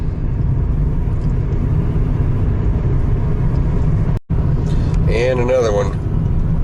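A car descends a winding mountain pass, its engine and road noise making a steady close rumble. A short break falls midway, then someone speaks briefly over the drone.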